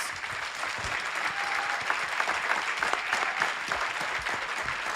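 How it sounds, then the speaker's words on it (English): Steady round of applause from an audience at a convention panel for U.S. Senate candidates, dense continuous clapping lasting several seconds at moderate distance with no talk over it. "Now let's give all of our candidates a good round of applause."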